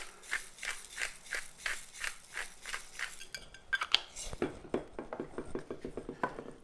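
Sauce being stirred with a spoon in a bowl or pot for a Chicago-style sausage pizza, mixed with oregano, salt and ground pepper: a steady run of close, rhythmic scraping clinks, turning into quicker, sharper taps toward the end.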